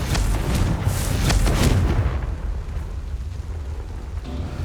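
Confringo fire spell blasts in Hogwarts Legacy: a loud burst of booming, crackling explosions that rumble heavily and then die away into a lower, continuous roar.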